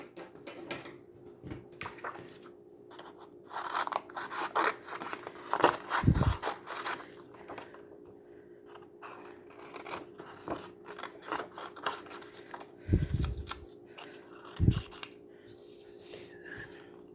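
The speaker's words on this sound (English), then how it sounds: "now we're going to cut these out" Scissors snip through paper while cutting out stamped paper shapes for a card-making craft, a run of close, quiet cuts with occasional louder snips and rustling of the sheet, no talking.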